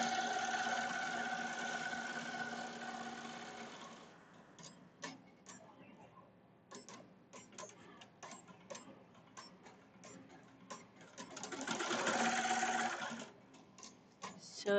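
Melco Summit embroidery machine sewing a mug rug, steady rapid stitching hum that stops for a stretch of sharp irregular clicks and snips while trimming, then resumes sewing.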